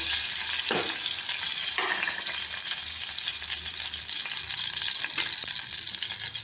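Cinnamon, cloves and ginger garlic paste fry in hot oil in a pan, a constant crackling sizzle broken by a couple of sharp stirring scrapes.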